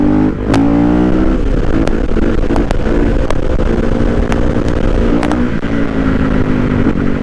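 A Kawasaki KXF 450 dirt bike pulls in fourth gear without the clutch, its four-stroke engine a loud, close, steady droning roar with rising harmonic whine and occasional sharp ticks, sustained for about seven seconds.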